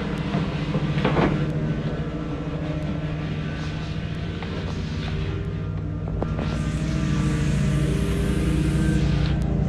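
A U-Haul moving truck gives a loud, steady engine and road rumble that fills the whole clip, with broadband noise swelling slightly toward the end.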